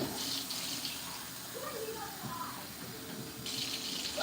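A household tap runs in a steady gush during home cleaning, fairly close, a continuous hiss with faint background clatter and no clear talking.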